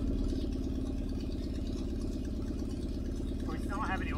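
A steady, low mechanical rumble of a Minimax 1100R light aircraft engine at complete idle, even throughout, with a faint rattle and brief voice-like sounds near the end.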